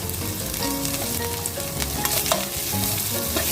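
Onion and Isan sausage stir-fry in a worn pan, sizzling loudly and steadily throughout with scraping stirs. No one talks.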